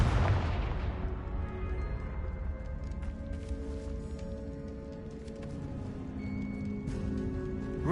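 A Confringo explosive spell goes off in Hogwarts Legacy, a loud booming blast at the start that decays into a ringing, rumbling tail under a continuous game soundtrack.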